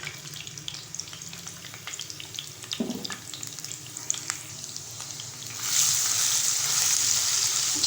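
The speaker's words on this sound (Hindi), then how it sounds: "हमने 1/4 कप ऑयल लिया और जब ये अच्छी तरह गर्म हो चुका है, अब हम इसमें डालेंगे अदरक और लहसुन चॉप की हुई" Chopped ginger and garlic go into hot oil for sarson ka saag masala, with a soft background sizzle that jumps to a louder, brighter frying hiss after the ingredients hit the pan.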